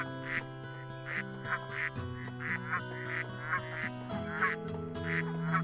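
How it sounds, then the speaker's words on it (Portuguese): Ducks quacking in the video game Baten Kaitos, a run of repeated nasal quacks in an uneven rhythm over steady sustained background music, clear and fairly close. "São patos, né?"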